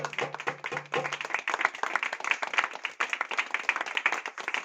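Dense applause from an audience celebrating a house that sheltered exiled patients, at a 20th-anniversary event for Parcours d'Exil; the clapping is steady and close throughout.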